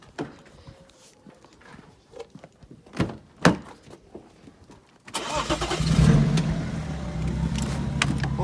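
A BMW 335D with an engine problem sits through scattered door thunks and handling noises before cranking into life around five seconds in, then settles into a steady, rough idle close by.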